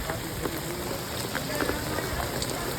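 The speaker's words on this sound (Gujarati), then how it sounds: "એકલું પાણી જ પડે છે બહુ ફૂલે ફૂલ પાણી પડે છે અત્યારે" Heavy rain pours steadily onto a farm field as a dense, continuous hiss, with a few louder drops and faint background noise throughout.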